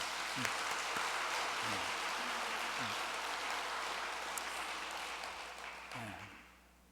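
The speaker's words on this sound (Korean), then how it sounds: "우리 수고해 주신 찬양들을 위해서 박수 한번 보내겠습니다." A church congregation applauds at an evangelism send-off service, with dense, steady clapping that fills the room and fades out toward the end.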